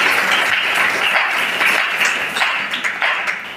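Applause from an audience at a church women's meeting after a call to clap for a pastor, a dense steady wash of clapping that fills the whole stretch and tapers slightly toward the end.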